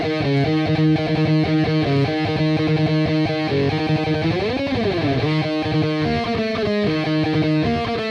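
An intro bass line played on a distorted electric guitar. A driving, chugging single-note riff with a swooping bend partway through, loud and up close, with no voice.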